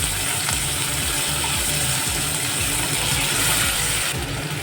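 Mustard seeds and potato fry in hot oil with a loud, continuous close sizzle and crackle that holds steady throughout with no talking.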